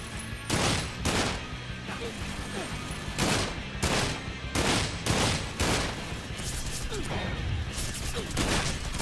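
Sustained gunfire in the video game Sunset Overdrive, repeated loud bursts of shots with crashing impacts over a dense, busy background, steady through the whole stretch.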